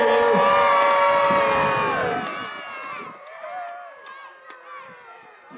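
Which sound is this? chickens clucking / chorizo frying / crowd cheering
crowd cheering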